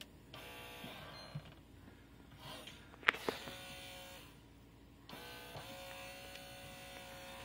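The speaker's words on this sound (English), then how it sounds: "this is the motor that turns the whole unit to go around" In an LG Twist N Flex refrigerator with a failed ice maker, the motor that rotates the ice tray turns with a faint, steady electric buzz. A sharp click comes near the middle and a brief quiet follows.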